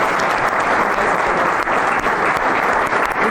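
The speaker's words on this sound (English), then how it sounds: "I think those vows deserve a round of applause." Dense, steady applause from a wedding audience right after the couple's vows, loud and close, sustained without a break for the whole moment.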